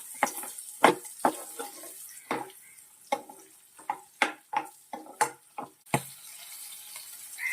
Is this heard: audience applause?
no